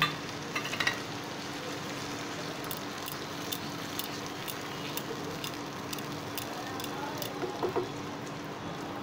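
A paste of mustard, poppy seed and green chilli frying in cooked-down masala with separated oil for hilsa curry, making a quiet, steady sizzle with faint patter and a few soft utensil clicks.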